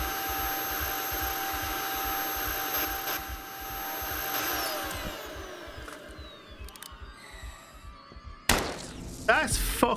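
A vacuum weapon in the video game Kill It With Fire 2 whirs as a steady motorized drone, with rhythmic pulsing and a sweeping pitch, then gives way to sharper game effects in the last seconds.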